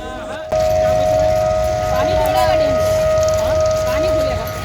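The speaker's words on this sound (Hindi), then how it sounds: "सायरन बज रहा था, आप सुन सकते हैं।" A steady, high-pitched siren wails continuously after a brief quiet start near the Narmada River at Omkareshwar, Madhya Pradesh, with faint chatter and background noise beneath it.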